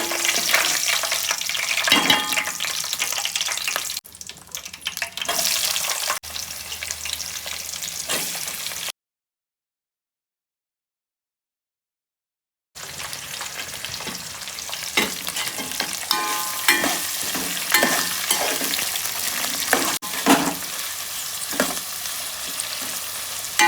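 Cumin, cloves and bay leaf crackle and spit in hot oil for a chicken curry, a loud continuous sizzle with spatula scrapes, broken by a few seconds of total silence midway.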